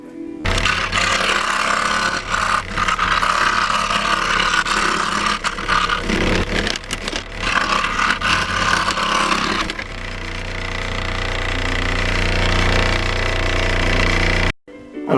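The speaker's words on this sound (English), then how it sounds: "you're really burning through, not cutting, with these Dremel blades" A Dremel rotary tool with a cutting blade grinds through a carbon fiber part for a Yamaha MT-09, a loud, close, continuous high-pitched whine with rough bursts, later settling into a steadier drone before cutting off abruptly.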